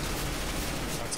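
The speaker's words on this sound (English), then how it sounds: "That's a lot of bullets." Heavy gunfire in the Counter-Strike video game, a dense continuous burst of shots filling the whole moment, loud and close with no gaps.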